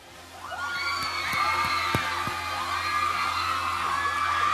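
A crowd of fans cheering and whooping at a live TV show appearance by Daniel Padilla, with high-pitched shrieks and yells rising over a steady roar, punctuated by a few sharp claps.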